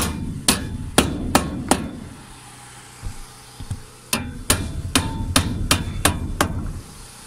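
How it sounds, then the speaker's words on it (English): A hammer pounds a 2x4 into a tight slot during house framing: a quick run of about five sharp, loud blows, two softer taps, then a faster series of about seven more strikes. "See, pound it in real nice."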